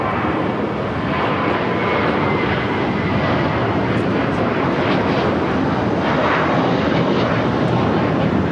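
Airliner taking off at LAX, a loud continuous jet engine roar, close and steady for the whole stretch with wind rumble mixed in.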